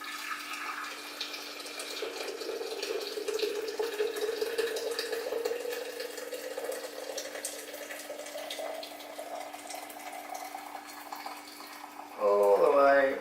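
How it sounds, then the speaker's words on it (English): Boiling water, 1.7 litres fresh from a jug, pours steadily into a teapot, its pitch rising slowly as the pot fills, then a brief louder clatter near the end. "pour it into the pot."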